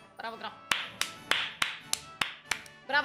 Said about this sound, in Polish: Brawa dla tej gry. Brawa,